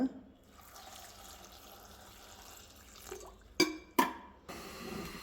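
Water is poured over chopped bottle gourd in a cooking pot for buttermilk sambar, a steady splashing hiss, then two sharp metallic clanks of the pot near the end.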